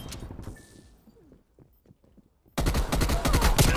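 Gunfire from a first-person shooter match starts abruptly and loud near the end, a dense burst of rapid shots following quieter scattered clicks and a faint near-silent stretch.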